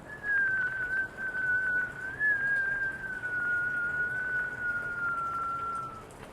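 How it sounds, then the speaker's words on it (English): Thin whistled exhalation through pursed lips during a gentle yoga breathing exercise, one long steady tone that wavers slightly and fades out after about six seconds, close and fairly quiet. "You may whistle or tiny O, blowing the air out with a little bit of pressure so that the exhalation elongates."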